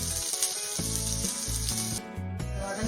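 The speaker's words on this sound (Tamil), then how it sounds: "கருவேப்பிலை போட்டதுக்கு அப்புறம் நறுக்கி வச்சுட்டு சின்ன வெங்காயத்தை ஆட் பண்றோம்" Curry leaves and small shallots sizzling and frying in hot oil, a loud steady crackle with bursts of spattering and a brief dip near the end, no voices.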